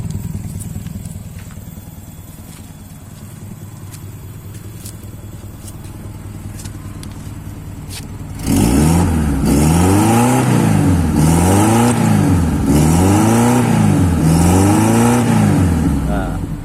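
Honda Civic Wonder engine idles with a low rumble for about eight seconds, then revs hard in a steady series of rising and falling surges, loud and close.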